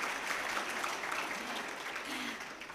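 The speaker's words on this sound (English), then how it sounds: "Yes, you can clap." An audience claps through a short burst of steady applause during a speech on Pakistan's defence, with the sound staying even and fairly distant for the whole clip.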